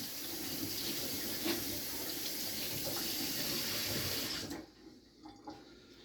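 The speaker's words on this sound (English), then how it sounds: "Now you gotta wash your hands again." Tap water runs steadily into a sink while hands are washed, a close continuous splashing that cuts off after about four seconds, followed by a few faint drips and handling sounds.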